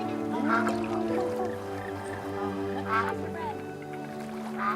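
Duck quacking in the video game That Dragon, Cancer, a few honking calls over a steady musical drone, moderately loud and close.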